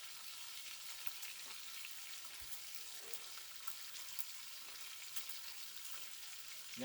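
Bacon frying outdoors, a faint, steady sizzle and crackle with scattered tiny pops, continuous and fairly distant, with no voices.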